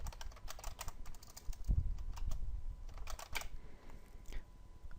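Quick, irregular clicks of typing on a computer keyboard, close and crisp, with a few heavier thumps mixed in.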